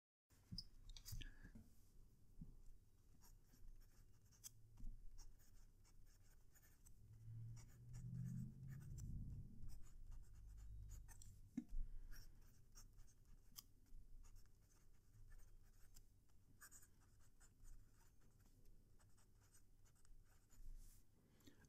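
A fountain pen scratches across 70 GSM reporter's notepad paper in soft, close, intermittent strokes and faint clicks. A low murmur of voice rises briefly partway through.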